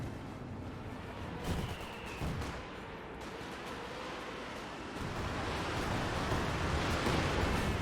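A Panzerwerfer rocket artillery barrage in a Company of Heroes 2 battle, heard as a dense rumbling roar of distant impacts and explosions that swells louder toward the end, with no talk over it.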